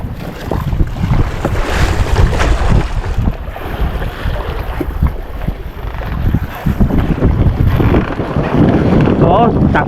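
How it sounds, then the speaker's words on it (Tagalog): Motorboats run across open water, a steady engine drone blended with strong wind buffeting and wave wash, loud and continuous throughout, with voices heard faintly now and then. "Takbo ng mga bangka doon"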